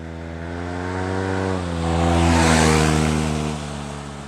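A 2015 Yamaha TMax Ironmax scooter engine, clutchless, pulls with a strong steady drone that swells in pitch and loudness midway, holding a high note before easing off slightly, close and continuous with no talk.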